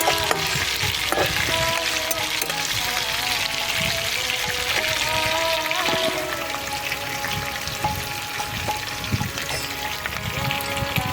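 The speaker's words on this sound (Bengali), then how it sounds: "কারি পাতাটা সুন্দর ভাজা ভাজা হয়ে গেছে" Curry leaves frying in oil in a pan while cooking green mango rice, a continuous close sizzle with scattered crackles and occasional stirring clinks throughout.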